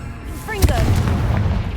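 The Confringo fire spell in Hogwarts Legacy hits with a sharp, loud boom followed by a rolling, crackling rumble, with brief game sounds at the start.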